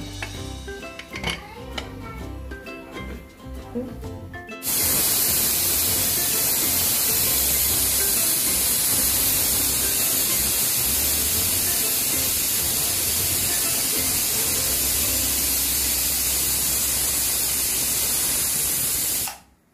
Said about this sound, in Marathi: आपण दोन ते तीन शिट्ट्या करून घेतल्या आहेत